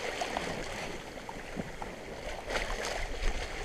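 A sailboat sailing fast under sail near Anfi del Mar gives a steady rush of water along the hull with wind noise and occasional splashes, constant and fairly close.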